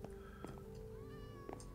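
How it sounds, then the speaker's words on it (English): Several cats meow in the Mana & Brass video game, in a town centre area, with a few short, clear, close calls over a steady background hum. "There's lots of kitties here as well."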